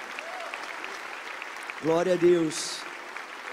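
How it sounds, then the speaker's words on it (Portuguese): A church congregation applauds at a Christian worship service, a steady wash of clapping that continues under a voice speaking briefly in the middle. "Vamos aplaudir forte"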